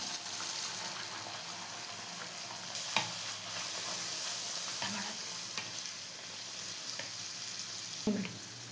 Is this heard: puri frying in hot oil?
yes